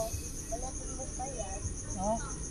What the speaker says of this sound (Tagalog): Rinig mo yung kuliglig oh.